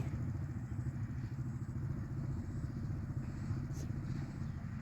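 A motorcycle being ridden gives a low, steady engine rumble at moderate distance, continuous and fairly quiet, with no voices over it.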